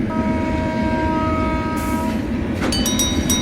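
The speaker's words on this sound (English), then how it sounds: "For the section up to Ooty, driver Hassan switches to diesel power." A diesel train on the Nilgiri Mountain Railway in India: a loud, steady rumble of rolling stock, then a tonal horn blast sounds near the end, close by.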